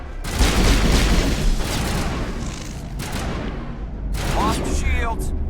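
Dense gunfire erupts in the video game Mass Effect, a loud sustained barrage of shots and booms that continues throughout, with sharper bursts near the end.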